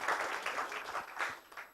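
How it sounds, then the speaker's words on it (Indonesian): An audience applauds a master of ceremonies at an indoor business presentation, a steady, moderately loud patter of many hands clapping without talk. "berikan tepuk tangan buat MC kita yang luar biasa, Bapak Adi Makbul."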